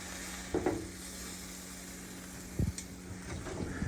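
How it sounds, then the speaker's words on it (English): A steak cooks in a pan with a low, continuous sizzle, broken by two short clatters as it is moved or turned; no one speaks. "So I got the steak cooking right here."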